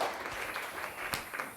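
An audience claps together in a short burst, a dense, even patter of many hands heard from a moderate distance with no voices over it.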